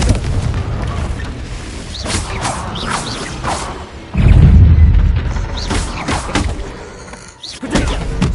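A Confringo blast spell in the video game Hogwarts Legacy goes off as a loud, low boom at mid-clip, set within busy combat sounds of other spells and effects. Nobody speaks.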